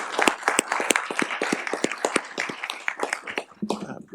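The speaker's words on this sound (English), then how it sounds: "Let's give her a round of applause." Audience applause at a board of supervisors meeting comes as a dense run of sharp, close claps from a modest crowd, thinning out toward the end.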